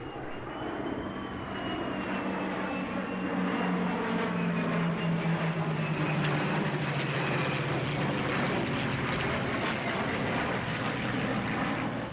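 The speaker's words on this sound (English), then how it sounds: "Here, a missing man formation to acclaimed Heritage Flight pilot Vlado Lenoch" Propeller aircraft fly a missing man formation over an airshow at EAA AirVenture 2017 in Oshkosh, a sustained loud engine drone that swells as the planes pass, with a slowly falling pitch and no talk.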